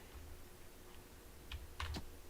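A computer keyboard used to drive a game, a few soft, quiet key clicks, mostly a tight cluster near the end over a faint background hum.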